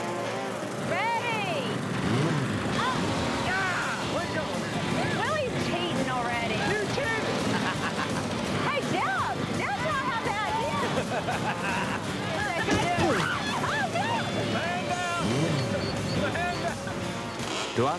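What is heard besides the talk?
riding lawnmower engines racing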